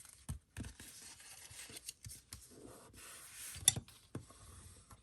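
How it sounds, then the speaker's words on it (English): Paper for a craft game box is folded and burnished, giving soft crinkles, sharp creasing snaps and rubbing strokes at close range, quiet and intermittent with no speech. "we're going to fold and burnish. I'm going to fold that up."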